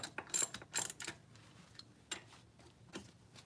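A manual ratchet hand tool clicks in short quick bursts while tightening bolts on a shift motor housing and brakes, crisp close ratcheting with pauses and faint mechanical ticks between.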